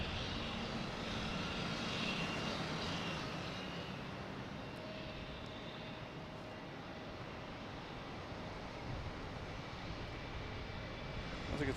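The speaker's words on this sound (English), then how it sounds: "we have an American Airlines heading to LaGuardia, E175" An American Airlines Embraer E175 regional jet bound for LaGuardia, heard from a plane-spotting spot at Boston Logan as a steady, broad engine roar that holds at moderate distance for the whole stretch, with no voices.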